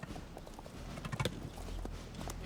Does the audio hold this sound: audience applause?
no